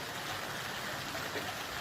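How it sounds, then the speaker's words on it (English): Rain pours steadily during a storm in Ankara, a dense continuous hiss of falling water with no distinct drops or voices. "the rain that started in the evening hours in Ankara gave way to hail"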